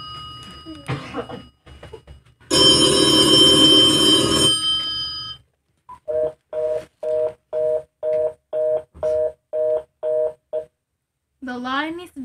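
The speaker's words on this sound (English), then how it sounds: "The line is busy." After a long ring, a telephone busy signal pulses in a steady series of evenly spaced short tones, clear and close, with a voice briefly before and after, in a radio drama.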